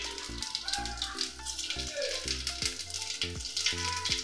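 Cumin and fennel seeds sizzle steadily in hot white oil in a pan, a close, continuous crackling hiss broken by a few clinks of a utensil against the metal.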